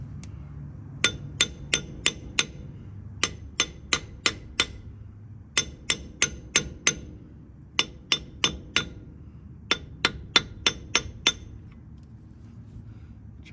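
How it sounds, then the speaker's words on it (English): A hammer tapping a pinion seal into its housing on a Toyota Tacoma front differential, sharp metallic taps in quick bursts of three to five, repeated evenly with short pauses, close and clear over a quiet background. "keep working it around, tapping it evenly until we get to that point where it can no longer sit into the housing anymore"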